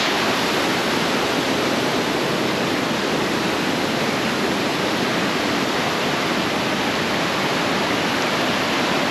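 Loud, steady rushing rainy-season water at Khopoli roars continuously throughout, a dense broadband wash with no voices.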